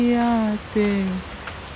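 Steady rain falls on a rural morning in a Narsingdi village in Bengal, a continuous soft hiss with a few drawn-out tonal sounds rising above it.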